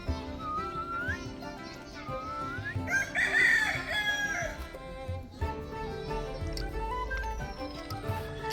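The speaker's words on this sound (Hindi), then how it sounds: "सारे मुर्गे मुर्गे मुर्गे" Roosters crow repeatedly in the courtyard of an old goddess temple shaded by banyan trees in Mewar, several rising calls at moderate distance mixed with hen clucking and faint background voices.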